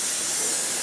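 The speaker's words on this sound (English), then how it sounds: "we have a good head of steam coming out of there" Steady, loud, continuous hiss of steam venting from a pressure canner during kielbasa canning, with no change across the short span.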